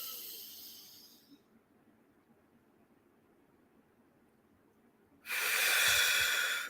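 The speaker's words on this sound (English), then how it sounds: "let's take a couple more deep breaths in together" Two deep breaths during a guided box breathing exercise: a soft hissing exhale that fades out, a quiet pause, then a loud, close, noisy inhale through the nose.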